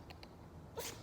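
A cat gives a single quick, sharp sneeze near the end of a short stretch of quiet room noise, with a couple of faint earlier ticks.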